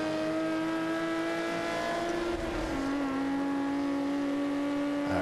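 A 1950s Ferrari engine in the Forza Motorsport 5 racing game on Road America holds a steady, loud revving drone with slowly shifting pitch, continuous throughout and without talk.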